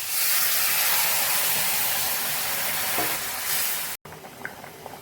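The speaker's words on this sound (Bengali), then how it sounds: "এবারে আমি গরম জল দিয়ে দিচ্ছি।" Hot water poured into a pan of spiced potatoes frying in oil for an egg curry sets off a loud, close, hissing sizzle with bubbling and stirring, which cuts off abruptly near the end.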